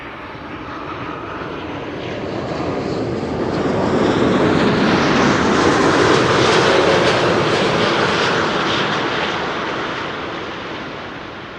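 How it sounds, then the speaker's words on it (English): An Air Canada Airbus A330-300 arrives at Amsterdam Schiphol Airport, its jet engine roar swelling as it passes close by, then slowly easing off into a broad, steady rush. "Here we have Air Canada flight 808 arriving from Toronto."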